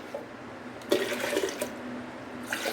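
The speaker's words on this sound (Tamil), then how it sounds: "இதில் இன்னும் கொஞ்சம் தண்ணி ஊற்றி நல்லா அலசி ஊற்றிக்கலாம்" Water splashes and pours into a pressure cooker for a couple of seconds, over a quiet steady background hum.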